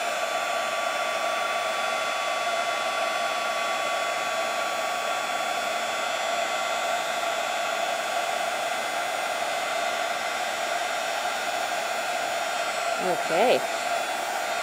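A heat tool blows steadily and loudly while embossing a stamped card piece for a floral card kit, a continuous airy whir with a brief murmured word near the end.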